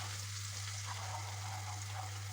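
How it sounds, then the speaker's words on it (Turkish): Semolina roasts in melted butter in a pan for helva, giving a steady, soft sizzling hiss that continues evenly throughout with no talking over it. "İrmiğimi güzelce kavuracağım"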